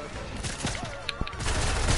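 Rapid video game gunfire bursts in a French-language shooter match, several sharp reports over a steady noisy game background, with a faint whistling tone.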